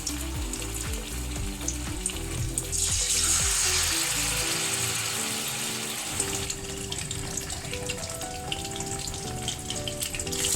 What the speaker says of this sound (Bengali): গ্যাসটা কম আঁচে রাখতে হবে, তবে ভালো করে ভাজা হবে।